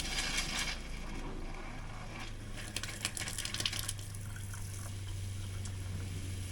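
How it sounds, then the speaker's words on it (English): Water runs steadily from a kitchen sink faucet in an Airstream travel trailer while the onboard water pump hums beneath it, a continuous close flow with a steady low drone and no talking. "Turn my water pump on, and we're going to let it run"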